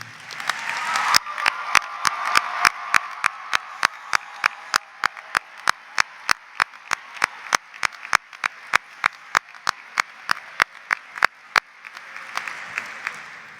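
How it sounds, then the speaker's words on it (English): Crowd at the 2023 Massanutten Technical Center graduation gives a long round of applause for staff and teachers, with a steady wash of clapping punctuated by sharp, evenly spaced loud claps near the recorder. "a huge round of applause"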